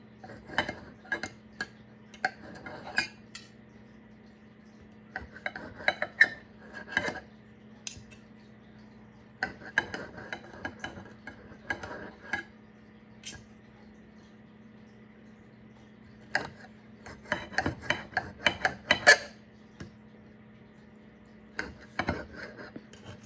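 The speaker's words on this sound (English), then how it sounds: "Getting all the ham chopped up." A knife chops ham on a cutting board in bursts of quick, sharp taps separated by short pauses, close and fairly quiet with no talking.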